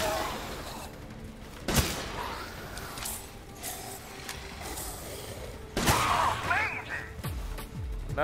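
Shotgun blasts from an enemy in Resident Evil Village, The Mad Village mercenaries stage: two sharp, loud reports several seconds apart over a busy bed of game noise, mechanical clatter and clinks.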